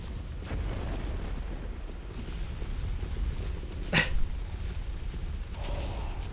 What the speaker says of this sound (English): that was some thunder